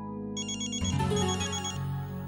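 A phone ringtone plays close up, a bright repeating electronic melody heard alone with no voices over it.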